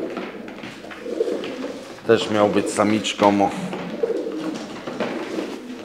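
Soft, low pigeon cooing comes in short rolling phrases, close by, while someone speaks over and between the calls.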